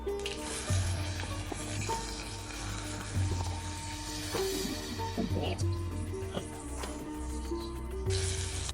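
Ground veld grape paste goes into a sizzling mustard tempering, a continuous close crackle and hiss with occasional utensil taps, while someone talks over it.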